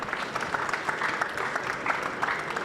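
An audience at an awards ceremony for French-made products claps in a steady, moderately loud patter throughout the brief stretch, with no voice rising above it.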